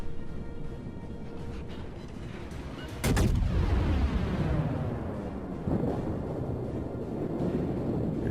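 Naval gunfire in World of Warships as a cruiser shells a Wyoming battleship: a sharp, heavy boom of a salvo followed by rumbling, decaying echoes over a constant low background roar, with a second softer thud later.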